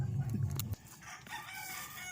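A rooster's crow breaks off sharply, followed by chickens clucking and chattering at a moderate distance.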